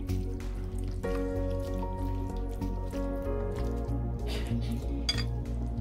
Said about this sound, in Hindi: और अब हाथों से इसे अच्छे से मिक्स कर लेंगे।